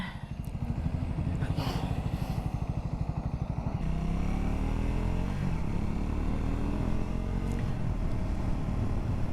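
Triumph Scrambler 400 motorcycle being ridden, a close steady engine drone with pulsing low rumble and wind noise, shifting to a smoother tone partway through.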